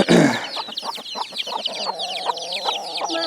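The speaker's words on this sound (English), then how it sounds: "So we got one hen, one rooster" A hen and a rooster cluck and chatter close by, a rapid run of clucks and short calls, with one louder squawk at the start.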